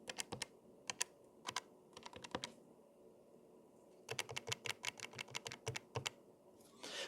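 Buttons pressed on a Casio fx82AU calculator: quiet, crisp plastic clicks, single taps and quick clusters separated by short pauses, with a longer run of rapid presses toward the end.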